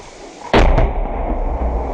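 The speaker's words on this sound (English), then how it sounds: "Explosion close nearby." A close explosion in war footage from the Ukraine war: one sudden heavy blast with a second crack right after, then a loud rumbling tail that does not fade quickly.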